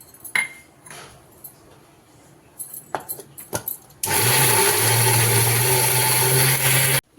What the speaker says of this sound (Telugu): వేసి ఒకసారి మిక్సీ వేసేస్తాం.